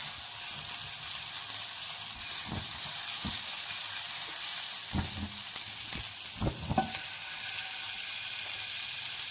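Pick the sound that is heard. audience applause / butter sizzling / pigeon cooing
butter sizzling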